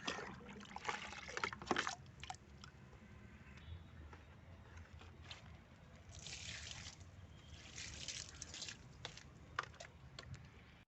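Water trickles and splashes steadily as it is poured onto plants, in uneven bursts with soft gurgling and occasional drips, close and moderately quiet.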